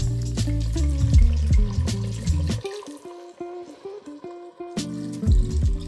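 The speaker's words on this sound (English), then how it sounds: "We're gonna put some wine in. We're gonna do about a cup of white wine." White Sauvignon Blanc, about a cup, poured into a pot of Sunday sauce, a steady liquid splash filling the pot over louder kitchen sounds, easing in the middle and returning near the end; no talking.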